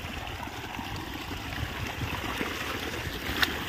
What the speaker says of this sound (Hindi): कितना अच्छा पानी उतर रहा है, फ्रेश पानी है एकदम